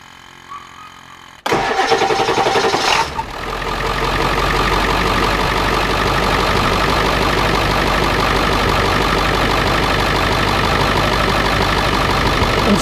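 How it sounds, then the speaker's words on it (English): A 2001 Ford Super Duty with the 7.3 diesel cranks briefly and fires up with a loud clattering roar. It then settles into a steady, rough diesel idle that runs on unbroken for about ten seconds. "And now we're going to start the engine and let this circulate."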